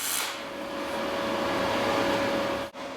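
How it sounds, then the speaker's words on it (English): A MIG 250 Pro welder lays a MIG weld on a 3/8-inch-thick steel axle tube from a rear end, giving a continuous close buzzing hiss that holds steady for nearly three seconds before a brief break. "start blasting it in with our brand new MIG 250 Pro from WELDER"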